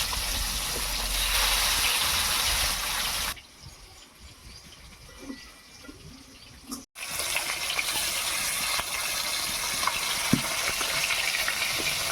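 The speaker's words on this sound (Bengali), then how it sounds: "কড়াইয়ের মধ্যে সরষের তেল দিয়ে দিচ্ছি মাছগুলোকে ভেজে নেওয়ার জন্য।" Fish frying in mustard oil in a wok, a steady broadband sizzling hiss that drops to a quieter simmer midway, then returns at full strength.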